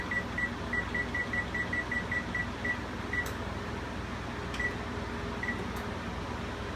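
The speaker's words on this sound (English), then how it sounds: "We're going to set it for 20 minutes." A kitchen timer being set for a cooking session gives a quick series of short, faint high beeps, then a few sparse single beeps, over a steady low hum of room noise.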